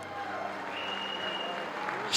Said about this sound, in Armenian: Սակայն ես կխնդրեմ առանձնահատուկ ծափերը Աբրահամ պապիկին, ժողովուրդ ջան, շատ բարձր ծափերը